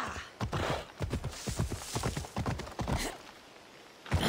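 Galloping horse hooves in Assassin's Creed Odyssey, a rapid rhythmic clip-clop of close, loud hoofbeats across most of the clip, fading briefly near the end before another thump.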